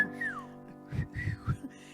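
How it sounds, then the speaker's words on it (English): A person at an April Fools' Day church service whistles along to a song: a clear gliding whistle opens, then the song's sung phrases follow in short, moderately loud bursts. "When you're chewing on life's gristle, don't grumble, give a whistle."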